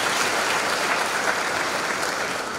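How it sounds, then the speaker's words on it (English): A church congregation claps steadily and enthusiastically during a sermon, a dense wash of applause filling the chapel without any talk. "Somebody clap for Jesus"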